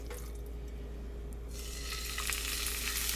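A thin, pounded chicken breast seasoned with kosher salt and Italian seasoning is laid into hot olive oil, and the sizzle jumps to a loud, steady crackle that continues close by.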